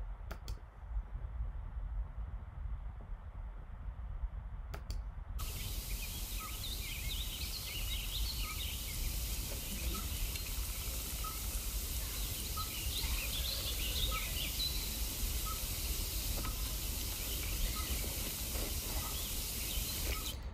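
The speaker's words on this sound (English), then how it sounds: "That's the pygmy owl, and that's a great little recording." Pygmy owl field recording of repeated soft toots, evenly spaced over a steady outdoor hiss, with other faint birdsong in the background.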